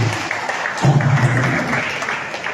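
A church congregation at a prayer meeting applauds together, an even wash of many hands clapping in a large room, with a low voice briefly under it.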